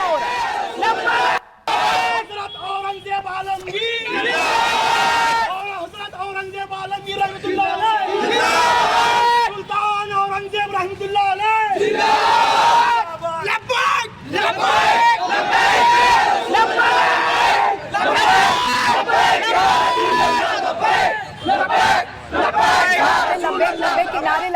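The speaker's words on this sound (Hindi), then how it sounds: "सुनवा रहे हैं आपको कैसे वो हंगामा हो रहा है" A large mob at a riot in Nagpur chants and shouts in loud, rhythmic surges, repeated slogans rising and breaking off with brief gaps, close and dense throughout.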